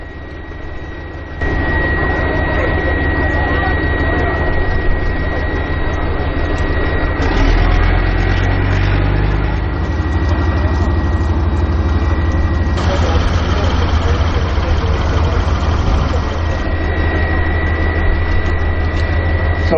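A MAN 5-tonne supply truck drives nearby, its heavy diesel engine droning loudly and steadily, with shifts in pitch and a high whine as it works, and a voice speaks faintly at times.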